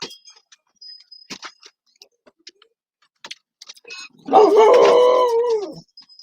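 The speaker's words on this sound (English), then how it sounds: "Sorry about my dog." A dog gives a single loud, wavering howl lasting over a second, after scattered soft clicks of computer keyboard typing in a quiet indoor room.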